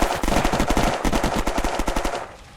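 Rapid bursts of automatic gunfire in the game Unturned rattle loudly in quick succession, a dense volley of shots that fades slightly at the end.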